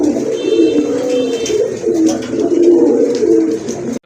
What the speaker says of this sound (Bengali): এখানে আর একটা পেয়ার দেখতে পাচ্ছেন, গড়া কবুতর।